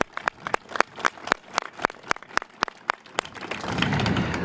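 About a dozen separate, crisp hand claps ring out at a steady pace as an audience begins applauding at a city announcement, then merge into a fuller wash of clapping at the end.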